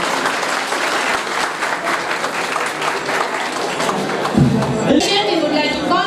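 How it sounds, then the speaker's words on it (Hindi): An audience at a software fair event bursts into loud, sustained clapping for a presenter named Rahul, a dense wash of hands lasting the whole stretch, with crowd murmur rising near the end. "आप ये कोई huge round of applause mister Rahul"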